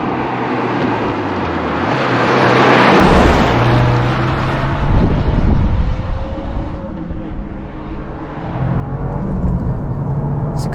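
A 2024 Subaru WRX TR's turbocharged engine revs hard while driving a technical stretch of road, rising to a loud peak then easing and climbing again through shifts, with road and wind noise underneath.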